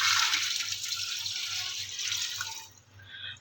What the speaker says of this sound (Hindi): इसमें मैं ऐड करूँगी मटन और इसमें मैं तकरीबन 4 गिलास के करीब जो है ना वो पानी ऐड कर दूँगी